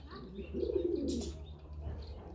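Soft, low cooing of pigeons and turtledoves, a brief burst of higher chirping mixed in, faint and close with quiet background hum.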